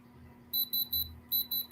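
A gem tester sounds on a moissanite ring in a rapid run of six short, sharp electronic beeps, close and loud after a brief quiet start, with no talking.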